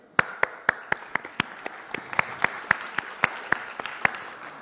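Sparse, evenly spaced hand claps at a business conference, crisp and fairly close, repeating at a brisk regular rhythm like a single person clapping rather than a full crowd.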